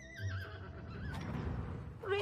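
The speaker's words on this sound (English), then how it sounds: "A majestic horse." A horse whinnies in a wavering, descending call over low rumbling background noise, followed by a brief rising squeal near the end.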